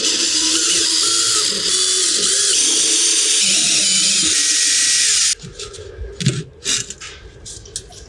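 Cordless power screwdriver backing screws out of a cracked thermo-ash deck board on outdoor steps, a steady high whirring run for about five seconds, then stopping into quieter handling clatter and faint talk.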